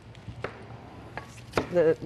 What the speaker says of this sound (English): we're chopping some nice, crispy, larger pieces of romaine